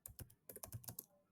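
A computer keyboard is typed on in a quick, uneven burst of about a dozen close, crisp keystrokes with short pauses, alone and fairly quiet.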